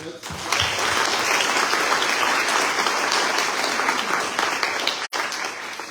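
Warm, sustained audience applause at a magazine's awards event honoring young achievers, a dense, steady clapping that holds for several seconds before cutting off abruptly near the end.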